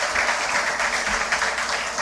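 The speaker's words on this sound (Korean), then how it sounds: "기쁜 마음에 박수 한번 치시겠습니다." Church congregation at a Sunday worship service claps hands together, a dense, continuous burst of many hands with a hint of low rumble underneath.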